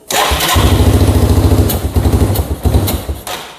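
Motorcycle engine on a Moto 4 resto-mod, running a little lean, sputters to life and idles roughly with loud, uneven pulsing chugs and airbox popping, close by and unaccompanied by talk.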